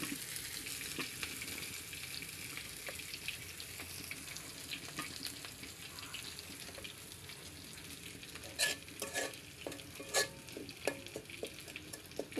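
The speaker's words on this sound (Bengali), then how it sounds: "পেঁয়াজটা এখন সুন্দর করে ভেজে নেব।" Onion fries in a wok with a continuous crackling sizzle throughout, with some louder stirring clatter and splashes near the end.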